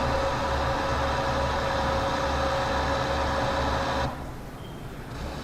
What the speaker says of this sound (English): Here we have the almost saturated brine, again being pumped by diesel pumps to the feed channel.